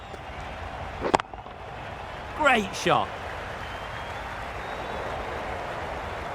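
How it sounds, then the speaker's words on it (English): A steady roar of cheering from the stadium crowd in Cricket 22, a Big Bash League match between Perth Scorchers and Brisbane Heat, fills the background while a commentator speaks over it. "Will you listen to the crowd? They are loving it."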